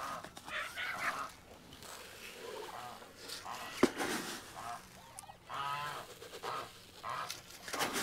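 Farm poultry in a chicken area give a busy, continuous mix of clucks and honk-like calls at close range, with several birds sounding over one another and one sharp knock partway through.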